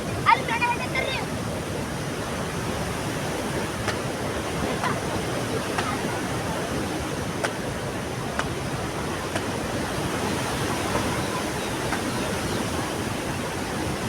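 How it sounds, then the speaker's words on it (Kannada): Water from a village stream in Kotaga pours steadily downstream in a continuous broad rushing wash, loud and unbroken throughout, with no voices over it. "ನೀರು ಕೆಳಗಡೆ ಹರಿತಾ ಇದ್ದಾವೆ."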